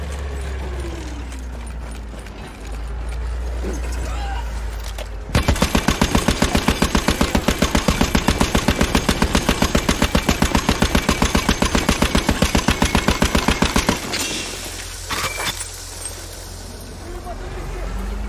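Sustained rapid automatic gunfire from anti-aircraft fire at a bomber plane in Battlefield, a loud rhythmic hammering burst lasting several seconds, with engine and battle noise before and after and a player's voice talking over it.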